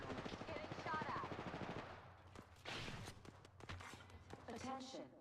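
Rapid bursts of automatic gunfire in an online shooter game, repeated shots under an in-game announcer voice and music, fairly faint and mixed with other game effects.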